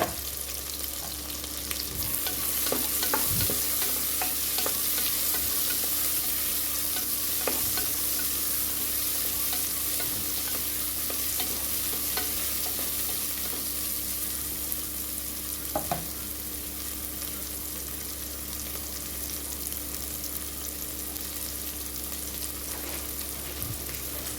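Ginger and shallots frying and being stirred in a pan for mutton bone rasam soup, a steady close sizzle with occasional scrapes of the spoon, with no voices.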